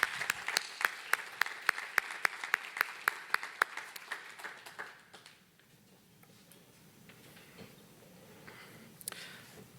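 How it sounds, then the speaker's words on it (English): Applause from a forum audience for renewable energy panelists at an environment and business awards event, with sharp rhythmic claps that loosen into scattered, fading applause and quiet room noise. "And so a round of applause for our panelists."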